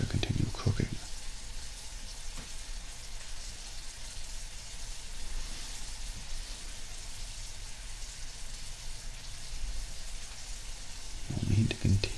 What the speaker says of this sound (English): Brushing down the sides of the pan, allow the mixture to continue cooking.